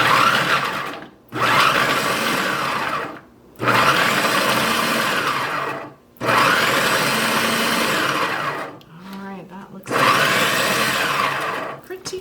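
A food processor whirs in four long bursts with short pauses between them, chopping vegetables for meatballs, loud and close with a brief voice heard in one gap.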